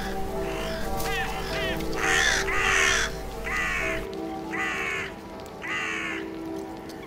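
Crows caw loudly and repeatedly while being fed in winter, with harsh calls coming in several close bursts separated by short pauses.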